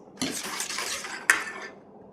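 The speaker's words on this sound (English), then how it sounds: "Whisk in every ingredient a little bit as you go, and it makes it easier to mix." Cream and other ingredients whisked by hand in a bowl for pumpkin bread pudding, a steady scraping swish with a sharp clink of the whisk against the bowl partway through, close and fairly quiet.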